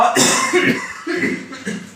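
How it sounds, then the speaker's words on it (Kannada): A few harsh, breathy coughs in quick succession, close by, with a short pause between bursts. "ಕೆಮ್ಮು ಸರ್,"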